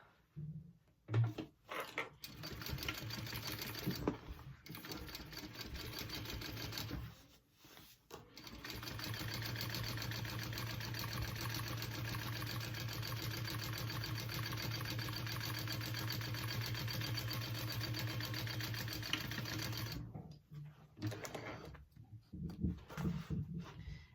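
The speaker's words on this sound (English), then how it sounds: "Top stitch that down." A sewing machine top-stitches a tote bag, starting with short stop-start bursts, then running steadily at close range for about twelve seconds before slowing into a few brief stitches again.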